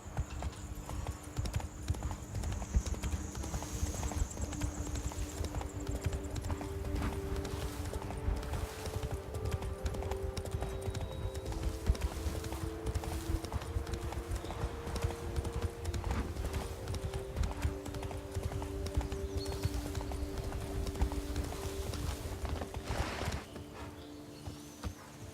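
Hooves clip-clop in a steady, rapid rhythm as a horse gallops in The Witcher 3: Wild Hunt Blood and Wine, continuing loudly for over twenty seconds over faint music tones.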